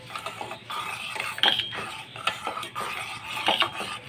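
A spoon stirs milk into boiled masala chai with ginger and cardamom in a pot, scraping and clinking against the metal in uneven close strokes, moderately loud and without talk.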